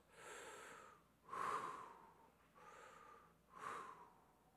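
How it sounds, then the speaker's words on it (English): An audience at a leadership conference keynote takes slow, deep breaths together: three or four long, soft inhale-exhale swells, quiet and airy, with no talking over them. "Now do this. Take 3 slow breaths."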